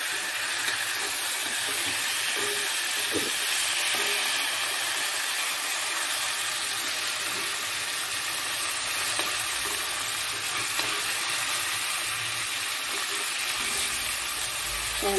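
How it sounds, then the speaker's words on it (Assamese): Kawai climbing perch fish fry in a hot pan, giving an unbroken close sizzle with occasional light stirring clinks throughout. "মাছখিনি ভাজি লওঁ আৰু।"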